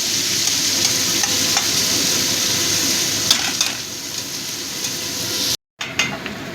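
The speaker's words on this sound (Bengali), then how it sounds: "পেঁয়াজটা আমার প্রায় ভাজা হয়ে গেছে" Onions frying in a pan for a spicy tangra fish curry, a close steady sizzle with stirring scrapes and a few utensil clicks, briefly cut off near the end.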